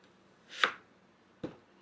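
A kitchen knife strikes a cutting board twice while mincing onion, two separate sharp close taps about a second apart in an otherwise quiet room.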